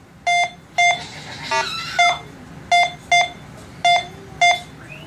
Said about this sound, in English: as it gets farther away, you get those lower tone targets